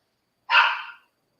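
A single sharp dog bark rings out from nearby at a door, one brief loud woof in an otherwise quiet room.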